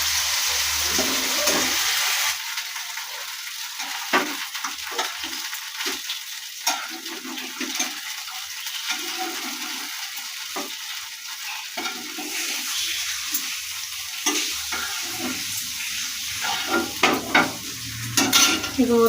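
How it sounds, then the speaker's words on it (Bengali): Pumpkin and bitter gourd slices frying in oil make a long, steady sizzle, broken by intermittent clatter and scraping from the pan, close by and with no speech. "দেখুন বন্ধুরা, কুমড়ো আর উচ্ছে ভাজা করেছি।"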